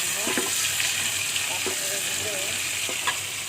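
Onions frying in a pan give a steady soft sizzle and crackle throughout, fairly close, with faint clinks and a few brief voiced sounds in the background.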